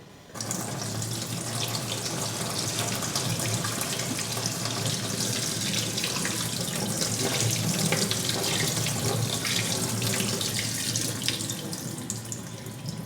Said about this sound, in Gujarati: પૌવાને આપણે પહેલાં સારી રીતે પાણીથી ધોઈ લેવાના છે